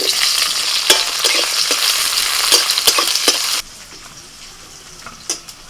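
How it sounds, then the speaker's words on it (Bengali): Dried red chilies, green chilies and chopped onion frying in hot oil, loud close sizzle with scraping stirs that suddenly drops to a quiet hiss partway through, then a few faint clinks. "তেলের মধ্যে দিচ্ছি শুকনো লঙ্কা আর কাঁচা লঙ্কা পেঁয়াজ কুচি"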